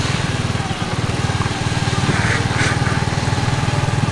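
A motorbike engine runs steadily with a throbbing, continuous drone while riding on a rainy day in old Lucknow, loud and close throughout with no talking.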